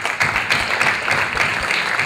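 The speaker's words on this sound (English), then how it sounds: "Nice big round of applause." An audience gives a warm round of applause at the finals of a South Asian spelling bee, a dense, continuous clatter of many hands filling the room at steady loudness.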